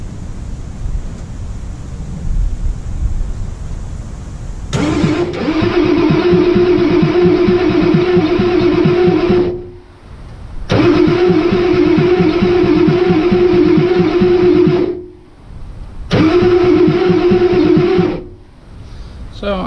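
Ford F-350 truck engine cranking over in a build with no power to the dash, repeated loud starter-motor spinning in three long bursts separated by brief pauses, with no engine catching.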